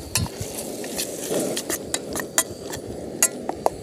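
Pancetta frying in a pan at a campsite, a steady close sizzle with scattered sharp clinks and scrapes of utensils against the pan, alone without talk.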